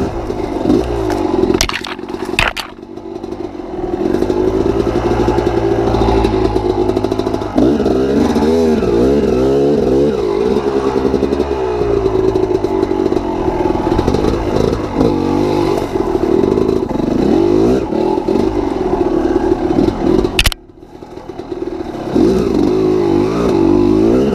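A motorcycle rides along with the engine roaring loudly and close, revving and accelerating through repeated surges, with rattling clatter and two brief drops in sound.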